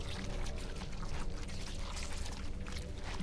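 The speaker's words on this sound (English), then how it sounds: "the water will make me detectable. They're gonna hear it." Water in the video game Bramble: The Mountain King makes a steady, continuous splashing and rushing wash that stays at an even level throughout, with no talking.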